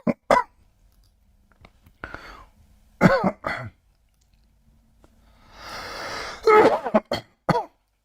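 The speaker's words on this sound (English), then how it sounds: "I need to cough heavily" Several heavy coughs and throat clearings from one person come in separate bursts with quiet gaps between them, and a longer hoarse clearing sits in the middle. The sounds are close to the microphone and spoken over by no one.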